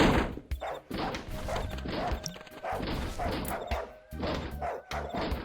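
A dog barks repeatedly in the adventure game Darkestville Castle, loud close woofs in bursts with a few crashing thumps among them and no speech.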